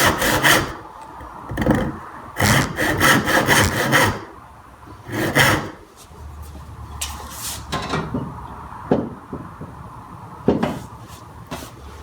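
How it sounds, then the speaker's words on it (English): A blunt chisel works a housing joint in wood, producing a series of rough scraping, rasping strokes in irregular bursts, some long and some short, close and fairly loud with quiet gaps between. "You've got a blunt chisel, you're trying to cut a housing joint like this"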